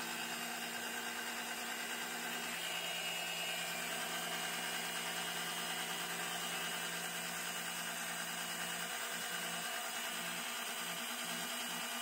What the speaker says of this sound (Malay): Setelah semuanya ready, kita boleh start pump.